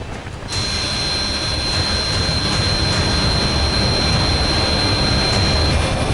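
Sukhoi Su-30 and MiG-29 fighter jets taking off from a forward air base, a loud, steady jet roar that swells in after a brief quieter start and holds for several seconds with no talk.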